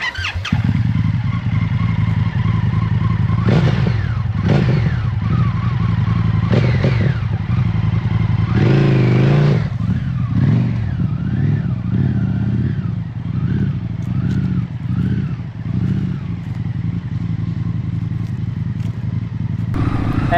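An FTR x RSD Super Hooligan motorcycle engine runs steadily and loudly throughout, its pitch rising and falling as the rider throttles up and eases off, with some rattling clatter.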